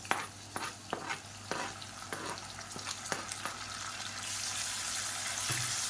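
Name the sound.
grated radish sautéing in oil with onion and garlic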